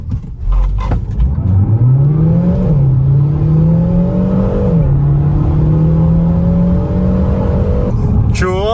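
Car engine accelerating hard through a timed 0-100 km/h run, a loud sustained roar climbing in pitch with clear gear shifts, dropping and rising again several times, steady and close throughout.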